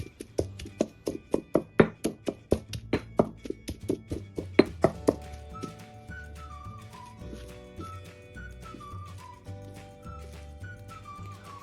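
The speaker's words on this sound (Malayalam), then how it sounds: "ഇടിച്ചക്ക തണുത്തതിന് ശേഷം ഇതുപോലെ ചതയ്ക്കണം" A rapid series of dull thuds pounds close by for several seconds as cooked tender jackfruit pieces are crushed, then softer irregular knocks continue while background music plays.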